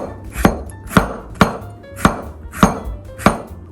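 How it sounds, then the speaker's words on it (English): A knife thinly slicing cucumber on a cutting board: six evenly spaced crisp chops land at a steady rhythm, close and clear, with no talking. "We're also going to cut our cucumber just like our onions"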